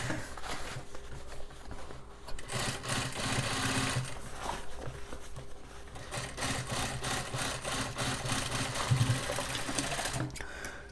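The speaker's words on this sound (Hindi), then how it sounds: "जहाँ से हमने स्टिचिंग निकाला था वापस से आपको वहीं पे स्टिच मारनी है" Sewing machine running a single stitch along a jeans hem, two fabric layers together, a steady rapid mechanical whir in bursts with brief pauses, close and fairly loud.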